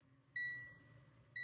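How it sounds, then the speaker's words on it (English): Seatbelt warning chime inside a 2023 Jetour Ice Cream car: two clear, close electronic beeps about a second apart over a low cabin hum. "you're hearing that beep right now. That's because I haven't gotten my seatbelt on"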